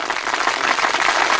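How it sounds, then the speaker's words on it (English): Audience applause during a live psychic radio broadcast, a steady wash of many hands clapping that holds at an even, fairly loud level for the whole moment with no voices on top. "thank you for the applause"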